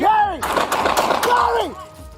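A police deputy fires a rapid burst of several gunshots at close range during a confrontation with a man holding a knife, the sharp cracks running together over a warbling siren-like tone.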